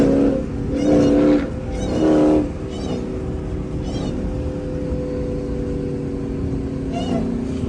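A Dodge Hellcat at a car meet sits in a deep, steady engine rumble close by, with a couple of louder rev swells early on, while people talk and shout over it.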